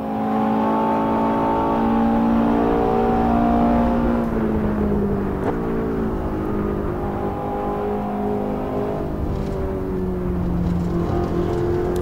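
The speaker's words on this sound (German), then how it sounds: "jetzt geht es hier bergauf und wir können mal Gas geben und können mal checken, wie langsam das Auto beschleunigt" A Ferrari 488 GTB in the racing game Assetto Corsa accelerates uphill on a hillclimb course, its engine loud and steady, with the pitch climbing and dropping through gear changes for the whole stretch.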